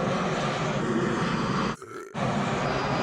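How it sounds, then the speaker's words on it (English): A fixed-wing airplane passes over Paris with a loud, continuous roaring engine rush that cuts out abruptly for a split second before the roar returns at full strength. "8 planes flew by in 30 minutes"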